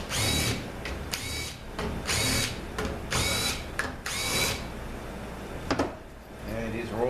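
Cordless power tool spinning out 10mm bolts from the channel plate support plate on a GM 6T70 transmission, several loud close whirring bursts of a few seconds each with brief pauses between them.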